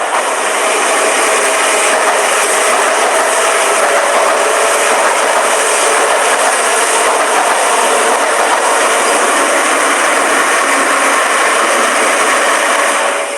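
An express train running at high speed, a loud, steady roar of wheels and rails heard from inside a carriage, continuous and unbroken throughout with no voices.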